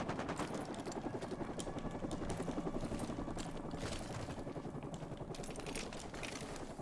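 A helicopter's rapid rotor chop thuds steadily and continuously in the Call of Duty Modern Warfare 2 Remastered video game, a fairly faint, even drone with no voices.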